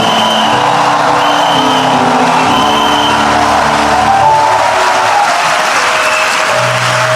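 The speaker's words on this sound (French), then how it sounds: "Tonnerre d'acclamation pour Jésus avec des cris de joie." A church congregation in Abidjan applauds and cheers for Jesus, a loud continuous roar of clapping and crowd noise with sustained tones running underneath, steady from start to finish.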